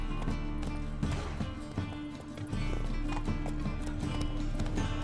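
Horse hooves clip-clop at a steady galloping rhythm in The Witcher 3, loud and continuous over a layer of game music and ambience, with a brief dip partway through.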